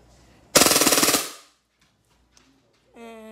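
A BB gun fires a rapid burst of about ten shots lasting roughly a second, then falls silent as it jams. A few faint clicks follow, and near the end a short whine or tone enters.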